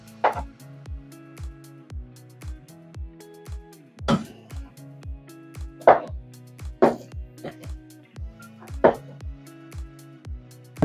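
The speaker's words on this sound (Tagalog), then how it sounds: "Mahirap pong ihalo ito, lalo na po yung bigas po namin ay lagkitan" Sticky glutinous rice mixed with other ingredients by hand, heard as a series of rhythmic, close thuds and scrapes spaced a second or so apart over a quiet background.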